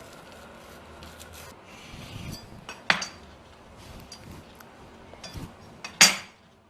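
A knife cuts a vegetable cheese toast into four pieces on a board: soft rubbing saw strokes broken by two sharp, loud clinking chops of the blade striking through, with no speech.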